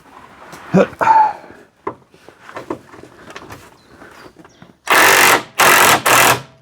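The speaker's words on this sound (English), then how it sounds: "So we got this new super powerful Ryobi Whizzy gun thing." A Ryobi power impact gun hammers at a seized bolt on a Daihatsu in three loud bursts of about half a second each, coming after quieter handling noises and brief talk.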